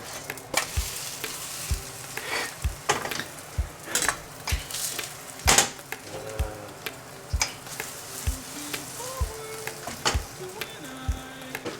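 A rice-flour mayo pizza fries in a pan just after being flipped, with a soft continuous sizzle broken by repeated light clicks and taps of a utensil against the pan.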